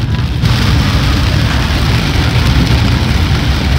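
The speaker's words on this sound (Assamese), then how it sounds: "ইমান ডাঙৰ বৰষুণ" Heavy non-stop rain pours down on a flooded Dibrugarh street, a loud, dense, continuous roar of water that swells after a brief quieter start.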